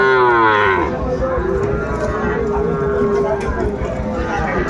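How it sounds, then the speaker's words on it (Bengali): Young bull calves moo loudly and close by, one long drawn-out call followed by more bellowing amid farmyard noise and people talking at Ambari cattle market. "ষাঁড় বাচ্চা"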